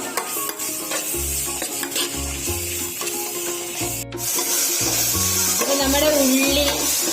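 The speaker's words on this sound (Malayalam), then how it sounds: "നന്നായിട്ട് മിക്സ് ചെയ്തു എല്ലാം കൂടി ഒന്ന് വെന്ത് വരട്ടെ" Tomato, green chilli and ginger cooking in a pan, stirred with rhythmic scraping strokes that repeat about once a second over a steady sizzle, close and loud, no talking.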